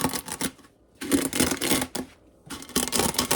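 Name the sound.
crushing pasta in a plastic bag by pressing with a cup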